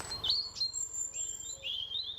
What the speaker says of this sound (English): I could hear long-tailed tit